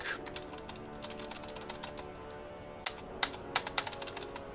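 Computer keyboard typing with clusters of quick key taps, then a few sharper, louder isolated presses near the end, close and fairly quiet.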